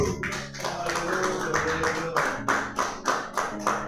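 A church congregation claps hard in a steady rhythm during a pastor's Bible lesson on Romans, loud and close with a sustained tone in the background.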